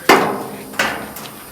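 Hammer strikes knock down drill burrs on a steel VW Karmann Ghia floor pan during restoration: two sharp metallic blows with ringing decay, then a fainter third tap, close and loud with no talk.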